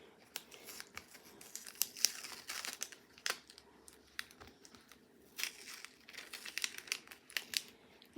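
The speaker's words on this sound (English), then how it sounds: "Let's go ahead and take the tape off and see what happens." Tape is peeled off a heat-pressed hat in short, close crinkling and tearing bursts, quiet and irregular, with brief pauses and no talking.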